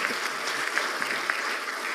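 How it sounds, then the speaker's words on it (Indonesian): Audience applause after a professor's remarks at a discussion forum with Anies Baswedan, a dense, even patter of many hands clapping at close range, steady throughout with a few sharper individual claps. "Tepuk tangan dulu dong."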